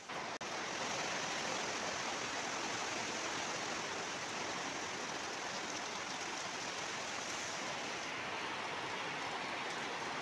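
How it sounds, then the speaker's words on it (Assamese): Heavy monsoon rain pours in a dense, unbroken roar that fills the whole stretch at an even loudness, with no voices and no other sounds. "এয়া পুৰা বৰষুণ এইকেইদিন ইমানেই বৰষুণ হৈ আছে"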